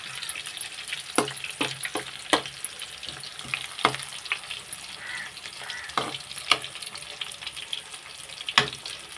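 Bitter gourd pieces fry in oil in a pan, a moderate steady sizzle punctuated by sharp, irregular spatula clacks and stirring scrapes.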